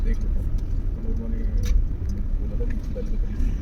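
A car creeps slowly along an uneven, bumpy road, its low engine rumble steady and close while something rattles faintly. People talk over the drive.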